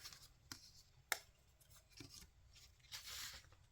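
Paper is trimmed for a scrapbook-style craft project, with a few quiet, crisp snips and scraping rubs spaced apart, close but faint against a soft background hum.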